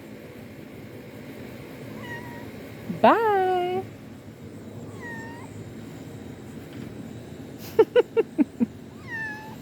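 Several cat meows, one long and loud, others softer, followed by a quick run of short chirpy calls; a voice briefly speaks over faint background noise.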